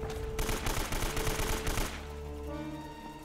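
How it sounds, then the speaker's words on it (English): Rapid automatic gunfire in the action game Uncharted, a tight burst of repeated shots lasting under two seconds, then fading into low game ambience with no talking. "I think I'm shooting the pillar, not him."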